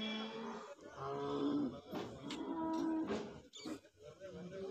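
Large buffaloes and cattle at a busy livestock market in Kattupudussery, with low lowing and moo-like calls recurring close by over a steady crowd murmur and occasional voices.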